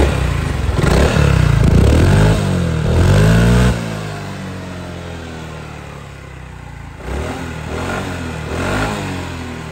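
A Honda SH 350i scooter on its stock exhaust revs loudly up close. Several sharp throttle blips in the first few seconds settle to a lower idle, followed by two more milder revs.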